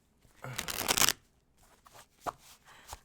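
Tarot cards are shuffled by hand close up, a dense riffling burst followed by a few softer taps and card slides.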